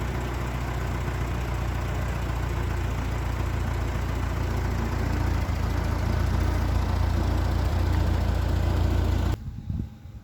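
A tractor engine runs steadily at close range with a loud, constant low rumble, cutting off abruptly near the end and leaving only faint rustling.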